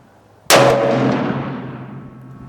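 A single loud, close rifle shot from a Ruger American Ranch firing Norma 124gr 7.62x39 ammunition at a range, an abrupt sharp crack followed by a long rolling echo that slowly fades.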